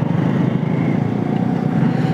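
Steady engine drone of a motorcycle being ridden on a cold evening, heading toward TSC, holding a continuous loud low rumble throughout with no talk.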